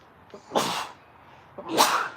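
Two sneezes from a person indoors, about a second apart, each a sharp close burst with a short breathy lead-in, standing alone without talk.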